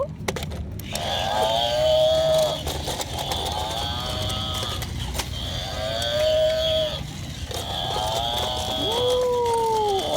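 A cow moos in a series of long, drawn-out calls, about four in a row, over a steady background of noise.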